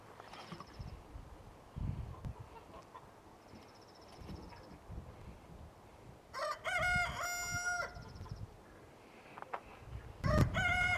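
A rooster crows loudly nearby in one long drawn-out call, with a second shorter crow starting near the end, over faint farmyard background noise.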